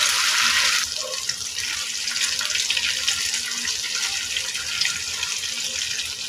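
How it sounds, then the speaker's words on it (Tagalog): Okra frying in hot oil in a pan, giving a loud, steady sizzling hiss that runs throughout with no one talking. "Tapos ipiprito natin guys yung ating okra."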